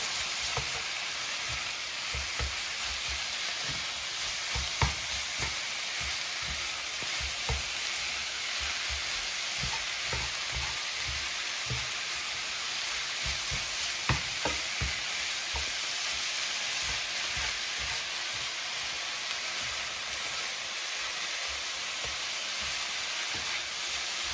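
Chicken and vegetables for a Philly cheesesteak sizzle steadily in a hot pan, with faint scattered stirring taps beneath a broad, even hiss, and no voices.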